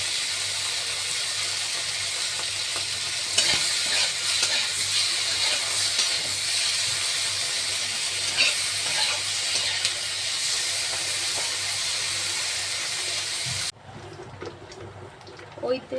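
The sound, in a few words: prawns frying in a wok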